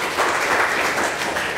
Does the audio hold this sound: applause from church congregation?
yes